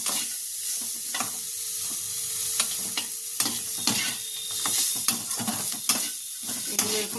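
Ingredients, including cashews, lightly frying in a little oil in a pan, a constant close sizzle broken by repeated stirring scrapes and clinks at an uneven rhythm.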